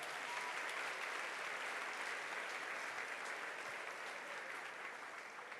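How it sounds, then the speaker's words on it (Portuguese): A church congregation applauds its pastor with steady, dense clapping that fills the room at an even level from start to finish, with no voices standing out. "Uma salva de palmas para o pastor Arnaldo"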